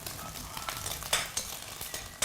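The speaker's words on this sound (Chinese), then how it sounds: "好，来回炒一炒它。 这时候用大火来爆炒" Eggs are stir-fried in a wok over high heat, giving a steady sizzling hiss broken by a few sharp scraping bursts as the spatula tosses them.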